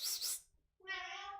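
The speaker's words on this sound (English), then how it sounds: "I have summoned the cat." A cat meows during a drawing stream: a short breathy burst, a brief gap, then a single clear tonal meow, faint and close.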